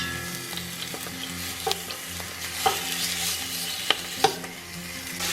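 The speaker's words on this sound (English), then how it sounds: "You hear that sizzle?" Beef short ribs sear in hot oil, sizzling and crackling steadily in the pan, with scattered sharper pops and spits, heard close up.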